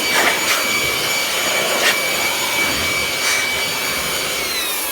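An air blower used to clean a car inside and out gives a steady, loud rushing roar with a few sharper bursts of air throughout.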